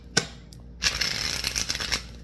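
Tarot cards are handled: a brief riffle, then a longer papery flurry of shuffling with light slaps of cards, close and fairly quiet.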